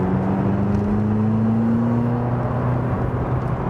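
A turbocharged McLaren sports car drives on the Autobahn, its engine giving a steady, loud whirring drone with a slowly rising tone, heard from inside and without talk.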